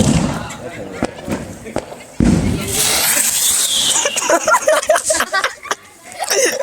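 Sharp firecracker bangs crack outdoors in quick bursts, followed by hissing and crackling, with people talking and laughing nearby.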